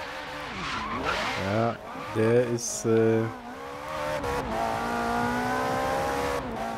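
Ferrari California engine in the racing game Forza Horizon 3, revving and shifting with stepped harmonic tones, tire skids and game effects, loud and close, with someone talking over parts of it.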